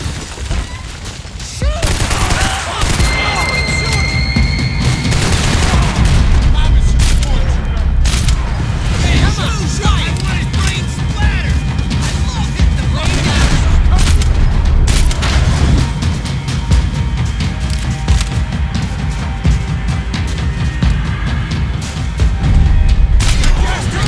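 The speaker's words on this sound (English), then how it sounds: "Gunfire over Hoboken" Heavy gunfire in the action game Max Payne 3 over Hoboken, with booming shots, rattling bursts and mechanical clanks in a loud, dense barrage, while a voice speaks at times over the noise.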